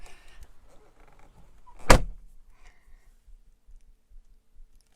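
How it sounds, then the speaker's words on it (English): A single solid door thud of a 2020 Audi Q5 lands near the middle of an otherwise quiet interior, followed by faint small clicks and rustles. "As you can see there, I'll shut the door."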